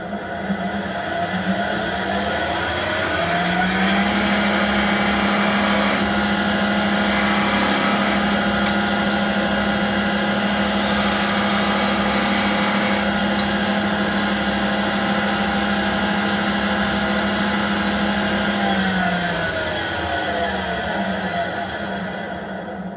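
A wood lathe spins a spindle while a spindle gouge makes a clean cut, a steady whirring drone with a sustained cutting hiss that starts, holds for about fifteen seconds, then fades as the tool lifts away.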